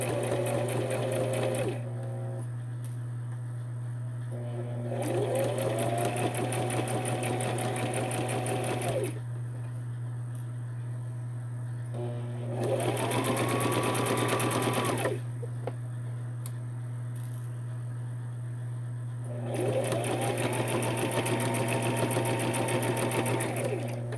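A sewing machine stitches a fabric journal closure seam in four runs of steady, close mechanical whirring, separated by short quiet gaps, over a constant low hum.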